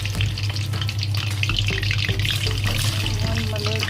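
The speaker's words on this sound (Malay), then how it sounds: "Sekarang ni pagi-pagi saya nak goreng kuih bom bijan ni untuk sarapan" Steady loud sizzling and crackling of sesame balls (kuih bom bijan) frying in hot oil, continuous throughout with no talking.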